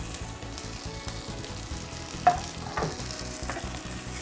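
Garlic sizzles and fries steadily in a pot for minestrone soup while being stirred, with a few louder scrapes and clinks of the spoon against the pot; no one talks.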